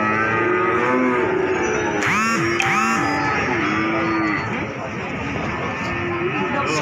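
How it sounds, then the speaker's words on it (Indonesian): Several cattle at a cattle market in Jaken, Pati, including breeding cows and a Limousin, moo in loud, repeated calls over dense crowd chatter and market bustle, with a few deep bellows standing out near the middle. "ini tempat di depan saya ini ada sapi indukan ini."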